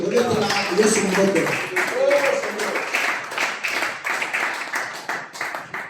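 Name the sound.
congregation applauding for the Lamb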